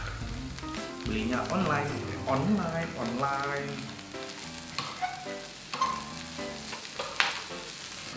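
Fried rice sizzling and frying in a pan at a street food stall, with scraping stir strokes and crackling bursts. Speech is heard near the start.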